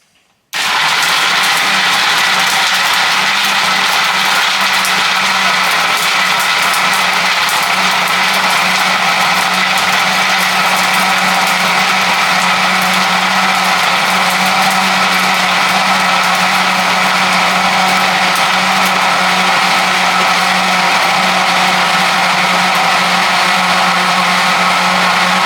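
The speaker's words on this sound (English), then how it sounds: "So with this blender I'm going to run it on number 1 for a little bit" Blender on its lowest speed crushing ice for a chocolate coffee frappe, a loud steady motor whir with gritty grinding that holds unbroken for about 25 seconds, no voices.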